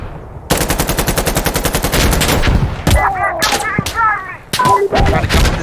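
Gunfire in the video game Insurgency: Sandstorm: a rapid automatic burst of evenly spaced shots, then heavier scattered blasts and echoing cracks, loud and close, with radio-like tones and chatter in the background.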